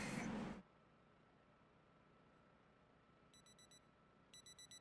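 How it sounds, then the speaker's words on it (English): A digital wristwatch alarm in the Project Zomboid video game beeps in short, quick high-pitched bursts, faint, after a loud burst of noise fades into quiet background hiss. "I did not realize I freaking had my alarm."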